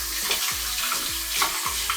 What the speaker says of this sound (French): on va rincer tout ça